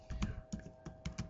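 Quiet typing on a computer keyboard during work in Excel, about six soft, close key clicks in an uneven rhythm.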